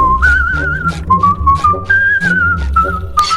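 Loud, close cartoon whistling carries a wavering, sliding melody over several short phrases, with soft thumping sounds underneath and no talking.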